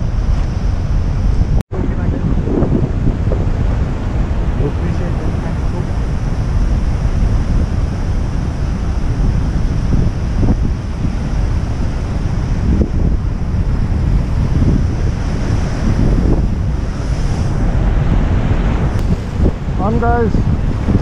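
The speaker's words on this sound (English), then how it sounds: "Sea is absolutely huge." On a rocky ocean shore, big surf roars continuously with heavy wind buffeting the microphone, loud and close throughout, with a sharp knock early on and a brief voice near the end.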